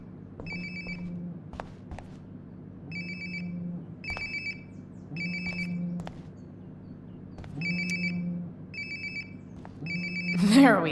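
A phone rings close by in the video game Life is Strange: Before the Storm, a clear ringtone pulsing in evenly spaced bursts over a low hum, with a sharp sound at the end.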